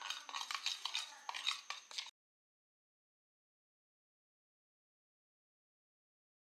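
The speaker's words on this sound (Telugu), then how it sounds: "2 ఎగ్స్ తీసుకొని వీటిని మిక్స్ చేసుకోవాలి మంచిగా." A utensil clinks against a bowl as two eggs are beaten quickly in a short burst of rapid whisking, then silence follows.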